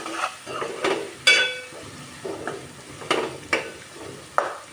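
Turmeric and ginger paste being stirred in a frying pan, a series of scraping spoon strokes and taps against the pan over a low sizzle, fairly close and clear, no talking.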